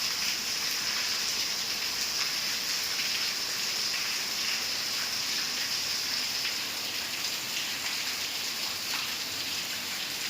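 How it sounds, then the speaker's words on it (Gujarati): Heavy rain pours down steadily, a dense continuous hiss of drops hitting surfaces with no break. "અમારે કેટલો જોરદાર વરસાદ પડે છે"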